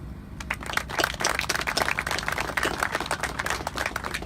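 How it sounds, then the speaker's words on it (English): An audience at a hurricane awareness tour stop applauds the Hurricane Hunters, steady moderately faint clapping from a crowd sustained throughout without speech. "Just wanted to get a round of applause."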